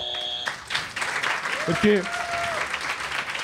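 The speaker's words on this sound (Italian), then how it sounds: "noi quando lui preme il tasto, diciamo, scatta l'applauso" Canned applause set off by pressing a button during a podcast recording, a burst of clapping that runs throughout while a voice speaks over it.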